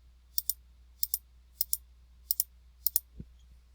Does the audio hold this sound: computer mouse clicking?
yes